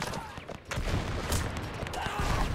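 Rifle fire crackles through a WW1 battle in the video game Between Empires, a dense, continuous spray of shots with a brief lull early on, heard alone.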